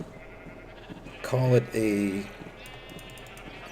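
Two close, loud sheep bleats on a Minecraft sheep farm, each lasting about a quarter second with a short gap between them, with someone speaking briefly at the end.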